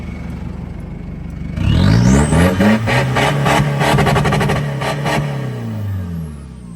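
A used, modified car at a second-hand dealer revs up from a low idle into a loud, close engine roar that wavers and then settles back slowly, with no one speaking.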